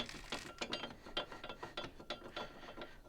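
Rapid ratcheting clicks from compressing a brake caliper piston on a Toyota Tercel during a brake rotor replacement, a steady series of close, moderately quiet mechanical clicks.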